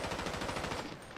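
A quick rapid burst of automatic gunfire in GTA 5 Online, evenly spaced shots running together for about a second, moderately loud with no talk.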